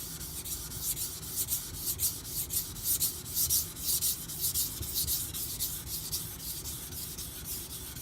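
An Aogami Super steel Karaku bunka knife being thinned on a sharpening stone, with rhythmic back-and-forth gritty rubbing strokes, close and fairly loud, about a dozen passes; no speech.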